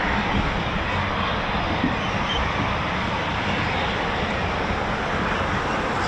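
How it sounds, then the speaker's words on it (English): Eurofighter Typhoon FGR4 jets taxi at RAF Coningsby, a loud, steady, unbroken engine roar from several aircraft moving on the ground. "5, 6 Typhoons taxiing out that I can see that are on the move."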